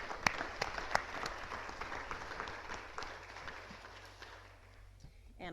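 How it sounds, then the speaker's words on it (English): Audience applause at a residents' council quarterly meeting, a steady patter of many hands with a few sharper claps standing out, fading gradually toward the end. "give them a little hand of applause"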